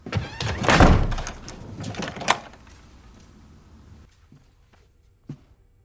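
A heavy door in a haunted-house TV drama slams shut with a loud, rumbling thud. A second sharp knock follows, then the sound decays into near silence with a faint later bump.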